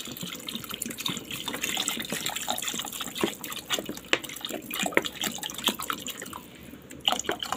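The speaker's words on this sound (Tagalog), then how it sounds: "ngayon lagyan na natin ng sabaw" Broth is poured into a pot of sautéed goat meat for pinapaitan. A continuous splashing, gurgling stream with scattered drips runs close and steady throughout, with no talking.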